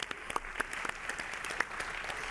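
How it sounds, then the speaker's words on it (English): Brief applause from a modest audience at a tech conference talk on AI agents, scattered individual claps audible in a thin, moderately distant patter with no voices. "Everyone give a round of applause."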